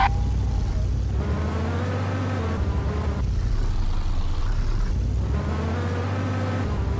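A video game car's engine drones loud and continuous like an airplane turbine, its pitch rising and falling in waves as it revs, with no talk over it.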